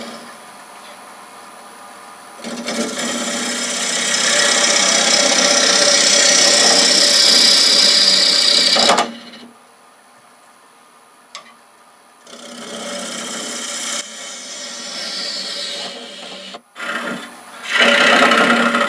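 A lathe turns a live-edge Bradford pear bowl while a gouge rides the bevel, giving a steady close scraping and rasping cut that runs for several seconds, pauses, then resumes in shorter bursts.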